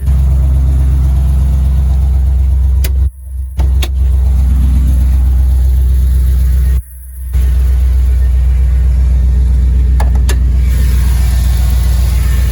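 A pickup truck's 6.0 Vortec engine idles steadily with a low, loud rumble, briefly cutting out twice before resuming its constant drone.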